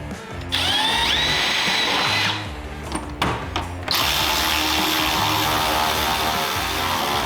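A power drill bores a hole for a bracket while lower doors and fender flares are fitted to a Honda Talon 1000X-4 side-by-side; loud, close whirring runs in bursts with a brief pause, then settles into a steady grind.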